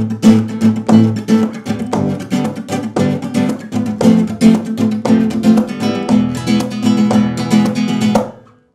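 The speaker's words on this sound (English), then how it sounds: "The next rumba technique that I'm going to show you is like a percussive rumba," A nylon-string rumba guitar is played with percussive strumming, fast rhythmic chords mixed with sharp slaps and muted hits that form a steady driving pattern, loud and close with no talking, before cutting off abruptly at the end.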